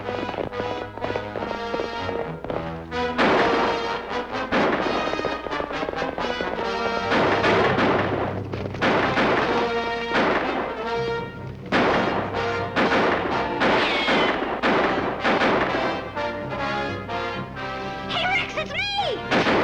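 Gunfire in a western film shootout around a wagon: loud, repeated shots and sharp cracks over galloping hooves and dramatic music, dense and continuous throughout.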